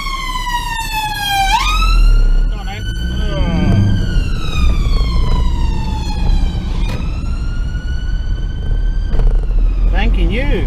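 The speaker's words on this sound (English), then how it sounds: "There's an ambulance coming down" An ambulance siren sweeps up and down in loud, repeated wails as it approaches and passes close by, set against street traffic rumble.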